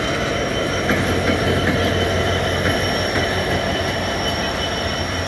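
A Dhaka–Rajshahi passenger express train rolls into Joydebpur railway junction. Its wheels squeal steadily over a loud, continuous rumble of railcars, close and without talk.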